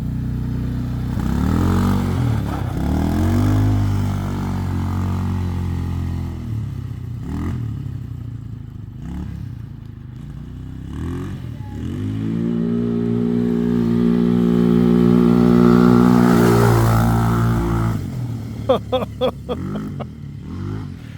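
A Tao Tao Bull 200 dirt bike runs at full throttle through a yard past a fire hydrant, its loud engine revving and droning in rising and falling sweeps, ending with a few sharp clattering pops as it backs off.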